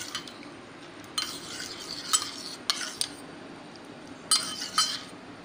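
A spoon stirs a homemade cold coffee mixture in a cup, with soft scraping and a few bright clinks of metal on the rim, close and without voices.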